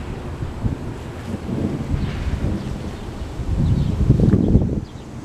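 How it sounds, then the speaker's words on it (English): Continuous thunder rumbles through a thunderstorm in Poughkeepsie in the Hudson Valley, New York, a low, steady roll that swells louder toward the end, mixed with wind noise on the microphone. "Just non-stop thunder."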